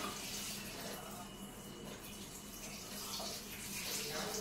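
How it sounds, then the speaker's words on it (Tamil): Water is poured over white flattened rice (poha) to soak it, giving a faint, steady splashing pour that runs evenly from start to finish, with no talk. "இதை வந்து நம்ம முதல்ல ஊற வச்சிடலாம்."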